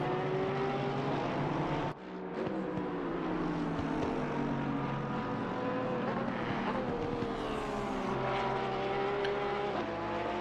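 Porsche GT3 race car engine in a GT3 racing video game at Barcelona, a loud sustained whine rising and falling through gear changes, with a sharp drop in pitch near two seconds before climbing again, no talk over it.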